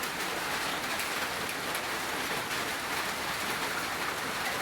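Steady rain falls on surfaces in a dense, even hiss, moderately close, with no voices or other sounds over the whole stretch.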